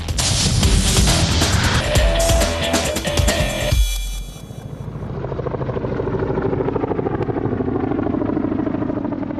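Chinook helicopter flying with an Apache escort over Helmand, Afghanistan, a loud, dense rotor roar that shifts abruptly midway to a lower, rhythmic thudding of blades, continuous throughout with no talking.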